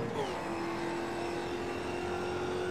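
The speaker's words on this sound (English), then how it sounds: "You could hear the tyres complaining just a little bit there" Sim racing car at the Daytona bus stop chicane, a steady engine drone with a high tonal tyre squeal that sweeps down briefly and then holds under the motor.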